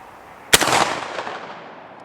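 A JTS12AK 12-gauge AK-pattern shotgun loaded with 2 3/4 inch shells fires a single loud, sharp blast that rings out and decays over the next second or so.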